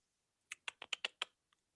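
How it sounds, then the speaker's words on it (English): Keyboard typing, six crisp key clicks in a quick, fairly even burst, then one faint click after a short pause, close and isolated against silence. "I heard typing."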